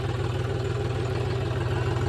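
A tractor engine, with no plough attached, idles with a steady, low, throbbing rumble that holds evenly throughout.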